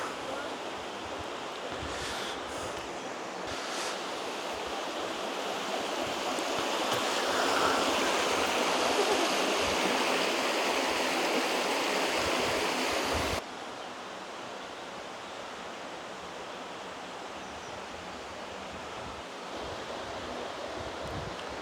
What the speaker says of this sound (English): A little bit of river action now